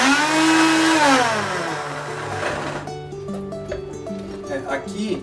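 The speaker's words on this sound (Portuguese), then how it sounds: "o liquidificador com o copo e com os pedaços, ele demora mais para bater" A kitchen blender grinds chunks of pâté ingredients in its jar, a loud whirring that drops in pitch as the load bogs the motor, then a quieter uneven churning with clatter.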